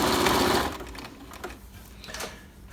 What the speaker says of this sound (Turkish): Siz sadece makineyi çalıştırarak kumaş sağa sola kaymasın diye yön vereceksiniz.